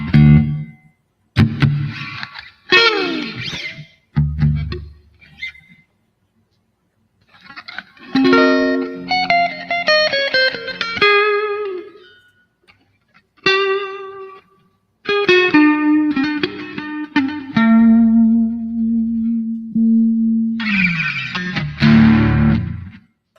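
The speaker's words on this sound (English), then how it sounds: "Now I just got the old orange DS1 distortion into a chorus." An electric guitar runs through an orange DS1 distortion pedal into a chorus, playing loud, gritty chords and single-note runs with shimmering modulation, broken by brief pauses and ending on a sustained low note.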